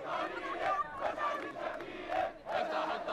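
Protesters crowd toward a cordon near the parliament buildings, shouting in surging waves; a dense, continuous roar of many voices rising and falling, fairly close.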